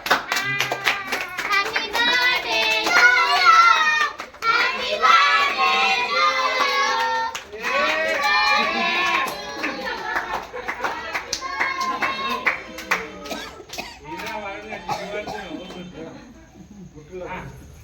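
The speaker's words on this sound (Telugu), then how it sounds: "చప్పట్లు చప్పట్లు." People clapping at a family birthday celebration, rhythmic bursts of handclaps mixed with lively talk and children's voices nearby, the clapping fading toward the end.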